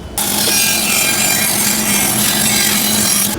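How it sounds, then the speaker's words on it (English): A bandsaw cuts wooden seat pieces in a steady, loud, continuous buzzing whine with an underlying motor hum, running alone from start to finish with no talk. "All right, let's go to the bandsaw."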